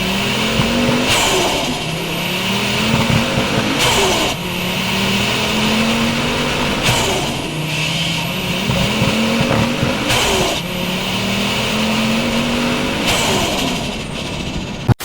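A 520 hp Ford Focus RS Mk2 with a turbocharged five-cylinder engine accelerates hard through repeated gear changes, each rising engine note cut by a shift, loud and close for the whole stretch.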